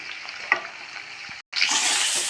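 Kohlrabi shallow-fries in a pan while being stirred, giving a close, bright sizzle with scraping stirs and a brief break midway before the frying hiss returns louder.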